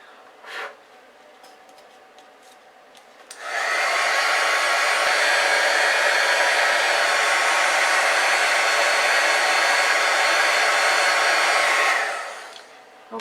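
A heat gun melting embossing powder for a craft gift bag roars on steadily and loudly for about eight seconds, then winds down, with a few faint ticks and taps beforehand.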